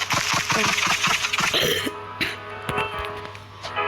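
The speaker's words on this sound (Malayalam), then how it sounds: "ചുമയാണ് ഗൈസ് എനിക്ക്." Several harsh coughs and throat clearing close to the microphone, bursting in a quick cluster, then trailing off into quieter rasping.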